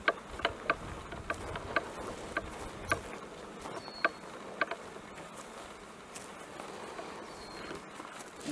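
Honey bees buzz around an open beehive outdoors, a steady faint hum with scattered close insect fly-bys and a few soft knocks and ticks from hive handling.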